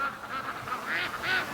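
Free-range ducks at a lake quacking in a continuous, overlapping chorus, several birds calling at moderate distance with no pauses over the short stretch.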